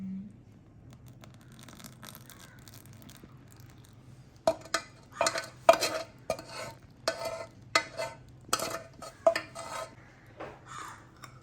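Carrot cake batter stirred into caramel in a metal pan, a quiet stretch giving way to a run of rhythmic scraping and clinking strokes from a spoon against the pan, close up and without speech.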